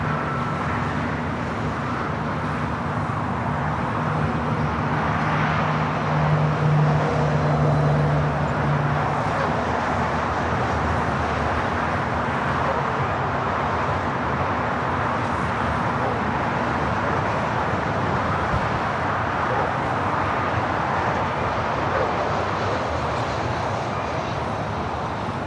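An Airbus A350 taxis at LAX, a steady broad engine rumble and whine that holds evenly at moderate distance for the whole stretch.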